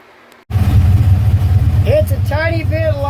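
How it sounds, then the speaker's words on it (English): A 1967 GMC C1500 pickup engine with an exhaust leak starts abruptly and then runs with a loud, low, rumbling throb inside the bare cab, while someone talks over it near the end. "It's a tiny bit louder in here with no carpet and no shifter boot. And it has an exhaust leak I can hear now."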